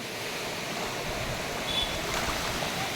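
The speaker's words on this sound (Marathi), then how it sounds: "इकडे मस्त असा नदीचा आवाज येतोय" A river flowing in a Konkan village, heard as a steady, continuous rush of water with an even broadband wash and no talk over it.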